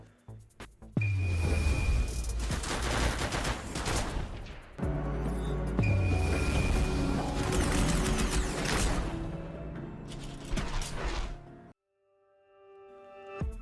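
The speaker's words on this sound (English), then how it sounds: "when she finishes firing and she strikes the barrels of her guns together" Rapid, sustained gunfire from a character's gun ultimate in the video game Wuthering Waves, loud and dense across two long bursts with booming impacts, ending in a bright metallic ring as the barrels strike together.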